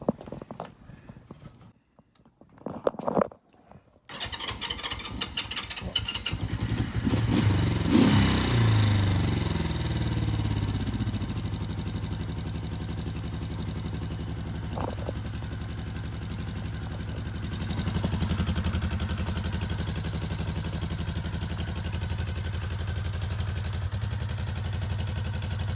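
A Honda CL 350 scrambler motorcycle is cranked over and fires up, then settles into a steady, close, loud idle with a throaty rhythmic beat that lasts through the rest of the run.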